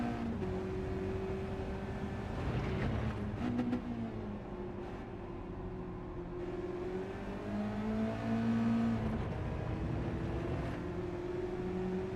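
A Mazda race car engine in a Mazda Cup racing game drones steadily throughout, its pitch rising and falling through gear changes and corners, with no talk over it.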